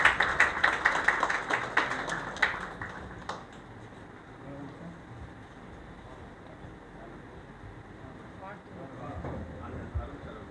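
Audience clapping at a Tamil film pooja launch ceremony, a burst of dense applause for the first few seconds that then drops off to scattered claps under a murmuring hall.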